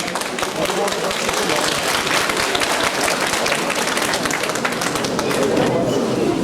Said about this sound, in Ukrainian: Зустрічайте ваші оплески.